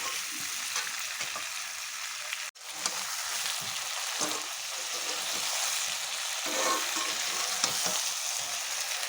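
Stuffed pointed gourd with prawns sizzles and fries steadily in a pan, a continuous hiss with light stirring scrapes and a brief dropout partway through, no talking.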